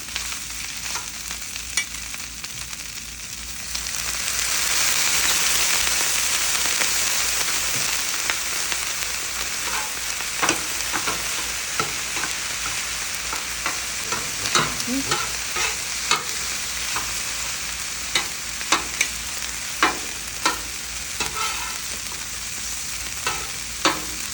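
Day-old cold rice stir-fried on a Blackstone griddle: a loud, steady sizzle swells in after a few seconds, broken by frequent sharp scrapes and taps of a spatula on the flat-top, with no talking.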